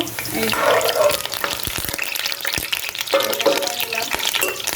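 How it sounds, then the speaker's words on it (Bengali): Chopped onions frying in hot oil for beresta, a steady close sizzle with bursts of stirring and crackle, a brief lull in the middle, and a voice talking at times over the cooking. "এখন একটু বেরেস্তা করে নিব পেঁয়াজটাকে।"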